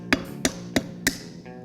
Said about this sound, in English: we're just going to take it off with a hammer